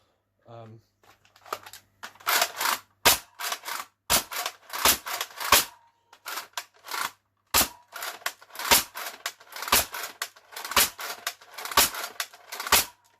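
X Shot Pro Series Longshot toy blaster being cycled and fired, a run of sharp snapping shots and clacking priming strokes repeated at an irregular rhythm, close and crisp.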